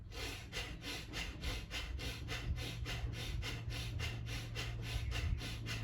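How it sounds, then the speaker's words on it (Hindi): Fast, forceful breaths pumped through the nose in a steady rhythm at medium speed, about three per second, close and raspy with no speech; bhastrika pranayama breathing. "जिस श्वास को लेते हुए नाक से श्वास आवाज आए वो तो है भस्त्रिका प्राणायाम"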